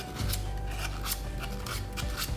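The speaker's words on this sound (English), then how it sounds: "I kind of fold my sandpaper around my finger just like this" Sandpaper folded over a fingertip rubs steadily against paper cut-outs for a pumpkin craft kit, giving a continuous close scratchy rasp with short repeated strokes throughout.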